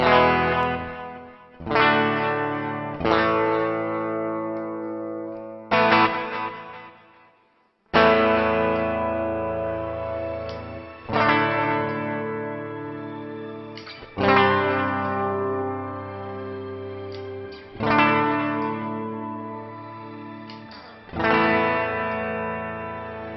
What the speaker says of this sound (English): If we put them both together, you get obviously a really great cacophonous sound.